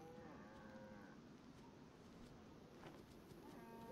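Cattle in the DayZ video game moo in low, drawn-out calls, one near the start and another toward the end, heard faintly over a steady background hiss.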